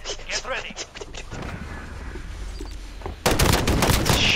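Gunfire crackles in a first-person shooter game: scattered shots early, then a loud, sustained burst of rapid fire near the end, with players talking over it.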